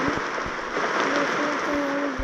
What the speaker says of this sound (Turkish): Şöyle yağmurumuz var yağmurumuz.